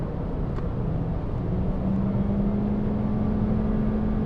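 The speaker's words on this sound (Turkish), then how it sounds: "Tekrar gazladım." A 2019 Toyota Corolla accelerates at high speed along a highway, its engine a steady droning hum with a slowly rising tone beneath constant road and wind noise.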